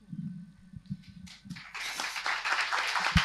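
Audience applause breaks out in a room during a panel presentation, starting as a few scattered claps and swelling into fuller, steady clapping that continues to the end.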